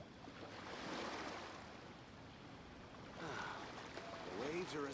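Calm ocean waves in the video game Genshin Impact wash softly and continuously, swelling and easing at low level, with a few brief tonal blips near the end.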